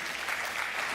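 A church audience gives a brief burst of applause, a dense patter of clapping hands at moderate distance.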